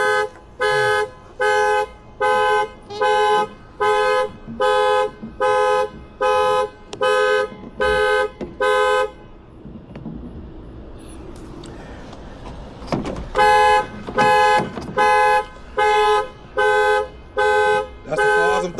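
A Toyota Avalon car alarm blares nearby in loud, regular repeating bursts, pauses for a few seconds amid faint background noise, then resumes the same pulsing pattern.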